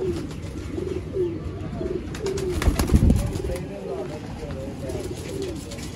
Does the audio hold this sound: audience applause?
no